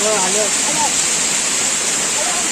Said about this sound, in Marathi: तिथं तुम्ही धबधबा पाहू शकता किती मस्त आहे